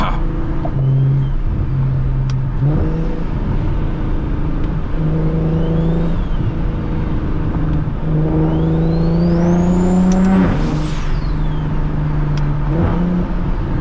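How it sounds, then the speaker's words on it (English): A single-turbo BMW 335is on a late-night drive, recorded from inside, rises and drops through repeated downshifts, with stepped engine pitch changes, blips and whistling turbo sounds over a constant loud drone. "Damn, them downshifts go crazy."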